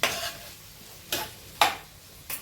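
Stirring egg and vegetable rice with potatoes in a pan: a few sharp scrapes and clinks of the utensil against the pan, spaced irregularly over a quiet, faint background.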